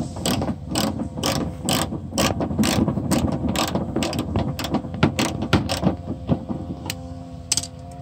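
A hand ratchet rapidly clicks in quick, uneven strokes while loosening a bolt during headlight installation on a Toyota Yaris, heard close and clear with no talking.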